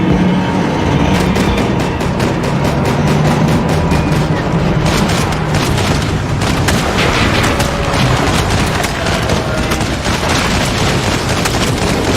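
Heavy gunfire in Max Payne 3 crackles continuously and loudly, dense overlapping shots and booms filling the whole stretch amid a chaotic firefight, with shouting voices buried underneath.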